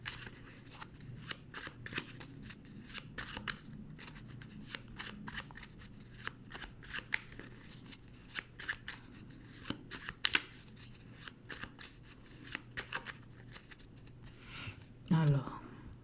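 Tarot cards being shuffled for a cross spread, a close, continuous run of crisp riffling flutters and soft slaps repeating throughout, with a brief thud near the end.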